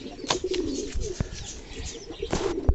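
A pair of white fluffy fantail pigeons, one male and one female, cooing softly with intermittent low coos, faint rustles and a few sharp clicks, with no talking.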